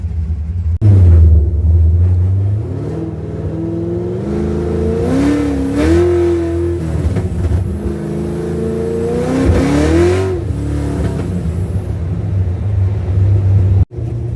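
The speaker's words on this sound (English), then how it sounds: "these mufflers sound amazing and idle, but at wide open throttle, I've got that really high pitch rasp" A car engine with loud aftermarket mufflers revs up hard twice, rising and falling in pitch with a high-pitched rasp, then settles back to a deep, throaty idle.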